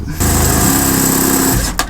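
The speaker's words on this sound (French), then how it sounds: "Je viens de percer mon véhicule comme ça là." A power drill whines loudly and steadily as a hole saw grinds through the metal body of a Kangoo van, then stops abruptly with a short clunk at the end.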